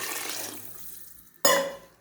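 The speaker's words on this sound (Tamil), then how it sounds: "ஒரு சொம்பு தண்ணி அதில் ஊற்றிடுறேன்" Water gurgles and fades, then a sudden splash of water pours into a cooking pot of rice, close and fairly loud.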